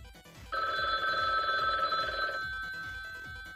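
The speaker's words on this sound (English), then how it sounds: "That was the phone." A telephone rings once in a steady, bright electronic tone lasting about two seconds, standing out over a soft rhythmic background and fading as it stops.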